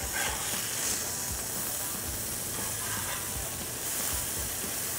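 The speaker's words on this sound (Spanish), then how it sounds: "vamos a tener una carne que va a cocinarse rápido y también de una forma uniforme al nosotros aplastarlas así sobre el sartén" Beef burger patties pressed flat sizzle steadily in a frying pan, with a loud, continuous hiss and crackle and faint pops running the whole time.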